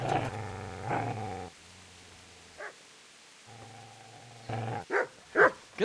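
A dog in the medieval video game Kingdom Come: Deliverance growls low and steadily in several long bursts, with short yips and sharp barks breaking in near the end, all close and loud.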